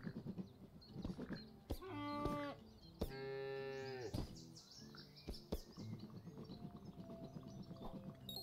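Cartoonish cow moos from a golf video game ring out in repeated drawn-out calls, mixed with chirpy bird-like game effects and clicks.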